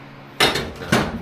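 Two sharp metallic hammer blows drive parts out of a 1966 Dodge D100 using a socket, the strikes loud and close, spaced about half a second apart with brief ringing decay.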